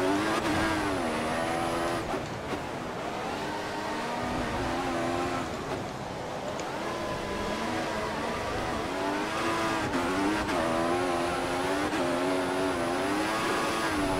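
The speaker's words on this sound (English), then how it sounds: "Massive drift." Formula One car from the F1 2014 video game drifting through a corner at the Spanish Grand Prix, its engine screaming with rising and falling revs while tires squeal in long, loud streaks for most of the stretch.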